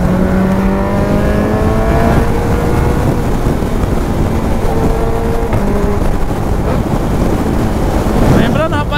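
A nitrous-equipped motorcycle is ridden hard, its engine note climbing in rising revving tones beneath constant heavy wind buffeting on the microphone.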